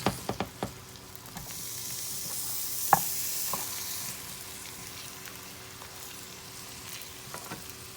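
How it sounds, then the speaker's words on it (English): Onions sauteing in a pan: a steady sizzle with a hissing surge early on, broken by sharp clacks of a utensil stirring, close by and with no voices. "Cooking them up. Saute onions."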